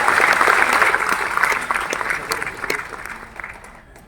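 A seminar audience applauds in a dense, sustained burst of clapping that slowly thins and fades toward the end.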